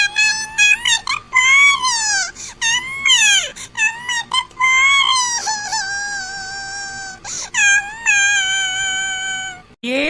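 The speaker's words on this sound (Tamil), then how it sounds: "ஏ பாப்பா அழுகாத" A young girl cries hard and loud, with long, rising and falling wails broken by short gasps for breath, going on steadily for the whole stretch with no one talking.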